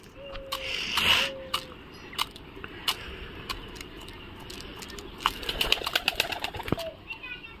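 Pigeons gather to be fed, with soft cooing, flapping wings and pecking scattered through the clip, while a person calls out nearby.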